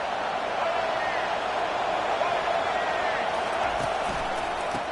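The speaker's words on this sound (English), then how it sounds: "This crowd knows when to bring it." Stadium crowd at a football game giving off a dense, steady roar throughout, with a commentator talking over it.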